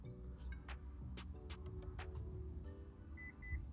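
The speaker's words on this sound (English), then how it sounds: "press both lock and unlock key until you hear the beeping" Short electronic beeps from a Lexus IS250/IS350 keyless entry system after the lock and unlock buttons are pressed together, a few brief chirps heard at moderate distance over steady low background noise.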